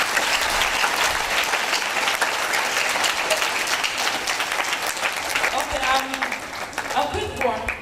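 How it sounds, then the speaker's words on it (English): A sustained round of clapping from a seated audience at a Nigerian space science launch event, dense and even at first, then thinning toward the end as a voice begins speaking over the last seconds. "I think he needed a bigger round of applause than that."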